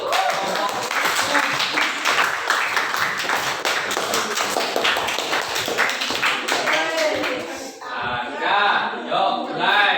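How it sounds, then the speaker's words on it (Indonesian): A student group in a classroom gets a burst of dense, steady clapping from the whole room for about eight seconds, then it thins out as voices come through. "Yuk beri tepuk tangan untuk kelompok."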